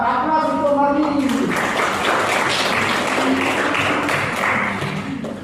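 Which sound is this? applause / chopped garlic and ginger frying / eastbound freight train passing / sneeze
applause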